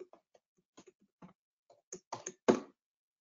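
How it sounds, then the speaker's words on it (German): Keys on a computer keyboard are struck in a sparse, irregular run of separate taps that grow louder toward the end, heard alone in a quiet room. "nicht reden und tippen gleichzeitig"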